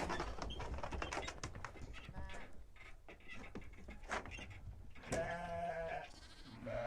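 Ewes and lambs bleat repeatedly at close range in farm pens, several overlapping calls with rustling and pen noise between them.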